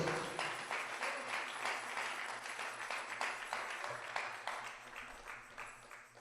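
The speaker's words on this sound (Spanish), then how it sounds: "Dale un aplauso al Señor con todo tu corazón." A church congregation applauds at a Spanish-language service, with steady, dense clapping that carries on for several seconds and fades slightly toward the end, with no talking over it.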